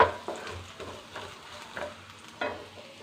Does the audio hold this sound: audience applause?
no